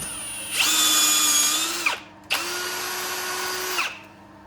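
A drill on a milling machine whines steadily through metal in two long bursts, each spinning up, holding a high pitched tone, then winding down, close and loud.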